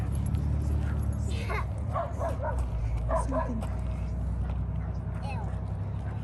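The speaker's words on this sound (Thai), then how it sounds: "เห่าด้วยเห็นไหม" A dog on an outdoor walk gives a quick series of sharp barks and yips over constant background noise, with people's voices also present.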